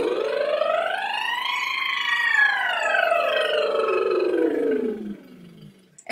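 A singer's voice imitates a siren as a vocal warm-up, one long sliding tone gliding up and then back down over about five seconds, close and clear, alone before fading out.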